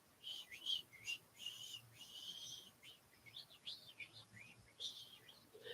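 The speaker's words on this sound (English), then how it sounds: "my whistling kind of varies there" Soft human whistling, a series of short wavering notes with varying pitch, faint and fairly close, with brief pauses between phrases and no talking.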